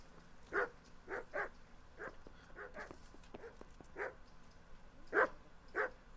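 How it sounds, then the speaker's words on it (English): A dog barks repeatedly in the video game Kingdom Come: Deliverance, loud, close, irregular woofs spread over several seconds against a quiet ambient background. "Dumb dog."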